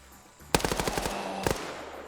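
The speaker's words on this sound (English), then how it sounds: "gunfire has alerted the horde." Video game gunfire: a rapid burst of about eight sharp automatic shots, followed by a second short burst a moment later, over a quiet ambient background.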